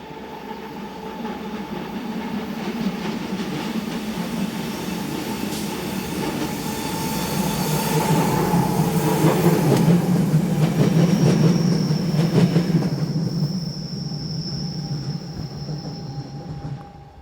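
Train hauled by Austrian locomotive 420-249 on the Semmering Pass route rolls past, a loud sustained rumble with rail clatter and squealing wheels that swells mid-pass and then eases as it moves away.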